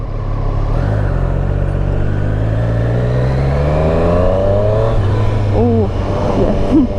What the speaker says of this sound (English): This has got the standard exhaust on as well, and to be honest, it sounds pretty good.